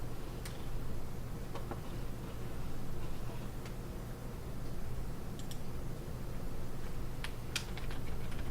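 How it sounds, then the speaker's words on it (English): Someone types on a laptop's built-in keyboard, picked up by the machine's own microphone. Sparse, light key clicks come in scattered clusters over a steady low hum, faint and close. "is my keyboard super loud when I type"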